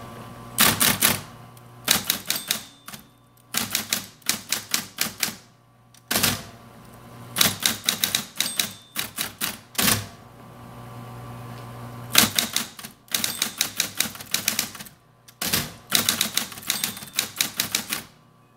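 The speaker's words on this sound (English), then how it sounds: "Can you see what I'm typing?" Typing on a 1970 Smith Corona Coronet Super 12 manual typewriter: close, loud bursts of rapid key strikes in uneven runs, separated by brief pauses and carriage noises.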